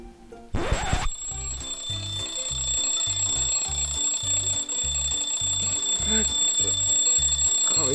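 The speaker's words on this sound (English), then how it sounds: "alarm's about to go off" An alarm clock goes off in the morning with a short burst of noise, then a steady run of rhythmic beeps that repeat evenly and keep going at a moderate level.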